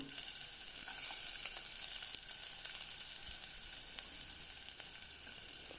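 Finely chopped onion fries with mustard seeds in a hot pan for a jackfruit thoran, giving a steady, dense sizzle with a few faint scrapes and pops and no talking.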